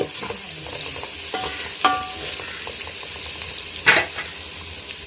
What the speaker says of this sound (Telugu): ఇలా చక్కగా ఫ్రై చేసుకోవాలా కొంచెం కరివేపాకు కొత్తిమీర కొంచెం ఫ్రై చేసుకుంటే బాగుంటుంది